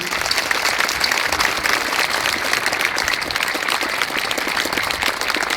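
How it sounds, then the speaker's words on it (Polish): Steady, dense applause from a large crowd at a charismatic renewal congress, honoring the Virgin Mary, sustained and loud throughout without a break. "Więc teraz oklaski dla Matki Bożej."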